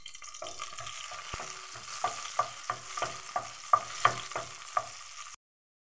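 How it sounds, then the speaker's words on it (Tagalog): Spices and garlic sauté in a pan while a utensil stirs and scrapes in a regular rhythm of sharp strokes over a soft sizzle, close by and without talk, then cutting off abruptly. "Gisahon ang lamas."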